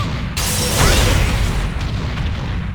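Launcher move landing in the fighting game Dead or Alive 6, a sharp booming impact that bursts in suddenly and then rumbles on loudly with a dense, crackling roar to the end.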